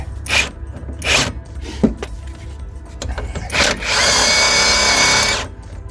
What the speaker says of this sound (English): Let's get the old impact jobby on there and just spin that a little bit to get a bit of the corrosion off of it.